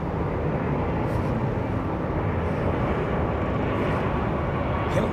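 A large jet, an A380, departing Heathrow Airport gives off a steady, loud engine roar that stays constant throughout at a fair distance.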